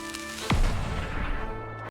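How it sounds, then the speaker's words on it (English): An explosion in the gameplay trailer for the video game Project Shadowglass bursts in suddenly and loudly, then settles into a deep, sustained rumble that runs on for over a second before cutting off abruptly. "This explosion looks really cool"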